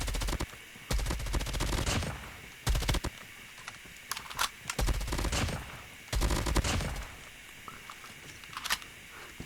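Holger light machine gun hip-fired in Call of Duty Mobile, loud rapid bursts of automatic gunfire in several strings with short gaps between them, close and dominant, no talk over it.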